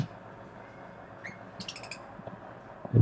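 Lovebirds in a home aviary give a few short, bright chirps and tweets, a brief cluster of calls at moderate distance over quiet background rustle.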